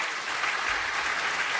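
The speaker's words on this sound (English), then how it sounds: "Give the panel a round of applause." A conference audience at an economic summit gives a panel a steady, dense round of applause that fills the whole moment, with no voices over it.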